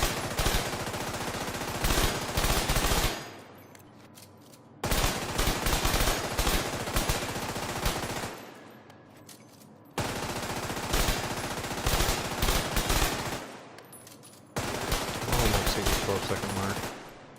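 Four long, loud bursts of rapid automatic fire from the FKM Rigid weapon in a shooter game, each sustained rattle lasting a few seconds and separated by brief pauses with ringing decay.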